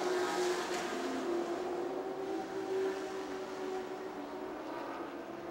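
Super trucks lapping in a heat race at Music City Motorplex in Nashville, a distant engine roar that is faint and smooth and fades slowly as the field runs on.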